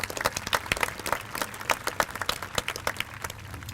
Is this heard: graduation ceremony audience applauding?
yes